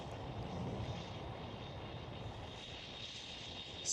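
A Singapore Airlines airliner departing Amsterdam Schiphol, its engine noise a faint, distant broadband rumble that eases slightly over a few seconds before a brief louder burst at the very end.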